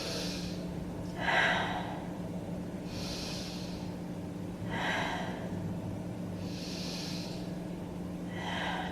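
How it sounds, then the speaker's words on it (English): Slow, deep breaths during a beginner yoga session, each airy inhale or exhale rising and fading every couple of seconds over a low steady hum, no speech. "Breathe deeply."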